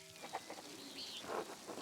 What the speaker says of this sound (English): When did it start raining?